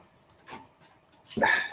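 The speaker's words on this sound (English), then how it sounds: "that's my dog walking around trying to get him to stop moving" A pet dog moving around nearby makes faint short snuffs and pants, then a louder breathy burst of panting close by at the end.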